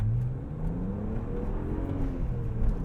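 A 2008 BMW 135i with a cylinder 3 misfire is pushed through a hard pull, its engine droning steadily with a rough, rising tone at close range and no talking.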